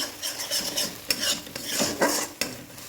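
Eggs being scrambled in leftover chicken-frying oil sizzle steadily while a utensil scrapes and stirs against the pan in quick repeated strokes, close and clear with no talking.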